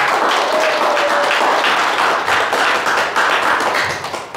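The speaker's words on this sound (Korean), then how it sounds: "축하의 박수 부탁드립니다" A lecture audience in Daejeon breaks into congratulatory applause, loud and sustained, a thick wash of clapping that thins out near the end.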